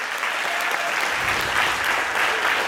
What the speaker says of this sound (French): On peut l'applaudir encore une fois bien